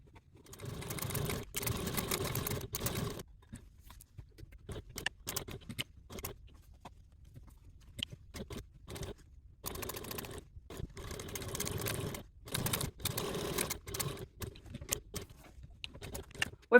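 A sewing machine top stitching along the long edges of a crossbody bag strap, running in several bursts of rapid mechanical whirring separated by pauses and small clicks, close and fairly quiet with no talk.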